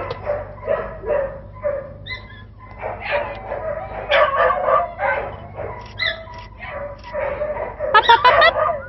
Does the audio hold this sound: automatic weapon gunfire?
no